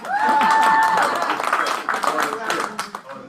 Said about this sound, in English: is it a round of applause if only one person's clapping?